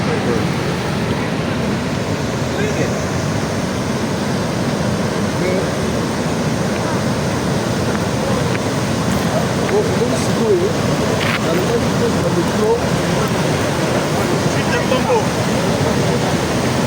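The Lulua River rushes at Inga 2 in a continuous, loud roar of churning water, steady throughout, with faint voices and scattered noises over the torrent.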